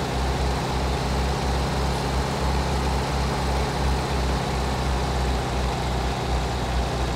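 An old, loud vehicle hauling a load of pigs rumbles off, a steady heavy engine drone with a pulsing low throb filling the whole stretch, close and continuous with no talk.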